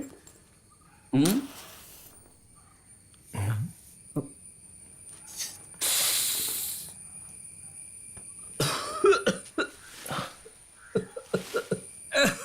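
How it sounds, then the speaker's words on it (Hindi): A man coughs harshly after his first puff of a cigarette in a dubbed film scene, several separate bursts of coughing and throat noise spread out and mixed with short spoken lines. "पहला कश लगाने से खांसी होती है"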